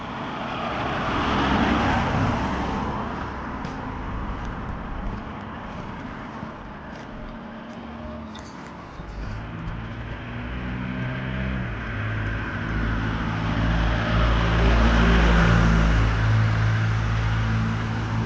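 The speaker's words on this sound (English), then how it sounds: "quite a lot of traffic here" Road traffic rolls past steadily on a street in Ballycastle, County Antrim, with engine rumble and tyre noise swelling as vehicles approach and pass close by, and no talking.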